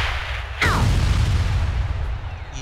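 A weapon shot explodes in the artillery video game Worms Reloaded: a sudden heavy boom with a whistling streak, followed by a long rumbling decay.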